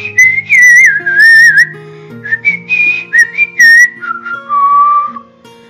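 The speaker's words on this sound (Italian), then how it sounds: "Fischiettando come un fringuello, fratello Ronf si avvicinò" A person whistles a bright, warbling finch-like tune, a run of quick sliding notes and trills, loud and close with short pauses between phrases and no talking.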